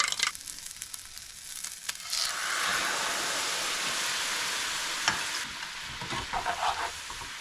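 A tablespoon of cheesy mixture is stirred into a third of a cup of homemade broth, giving a steady wet scraping and sloshing with a faint sizzle-like hiss that runs for several seconds, with no talking.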